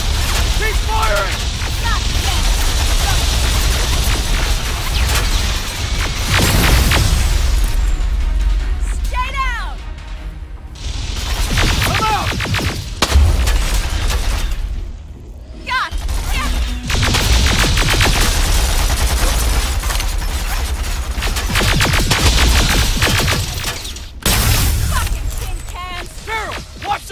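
Sustained gunfire and battle noise in the first-person shooter Terminator Resistance, Annihilation Line DLC, rattling on continuously with occasional brief drops, mixed with shouted combat voices and clanking mechanisms.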